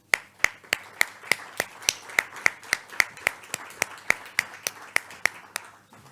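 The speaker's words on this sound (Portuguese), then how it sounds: "Peço a todos uma salva de palmas." Rhythmic single hand claps, about three per second, sharp and fairly close, with a few overlapping, as an audience applauds at a Portuguese academic conference panel on chronic disease and ageing.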